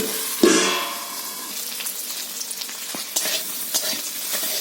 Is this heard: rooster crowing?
no